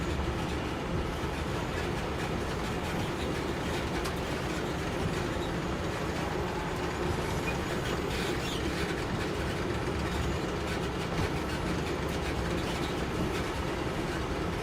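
A Caltrain locomotive runs on the Peninsula Corridor in Train Sim World 5, with a continuous rumbling roll and steady clickety-clack of wheels over rails. The sound is fairly loud and unbroken throughout.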